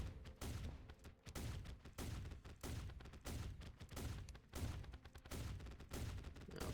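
Rifle fire in Terraria with the Calamity Mod, a fight against Providence, sounds as dense, rapid shots in near-continuous bursts with only brief gaps, loud and sustained throughout, with no voices over it.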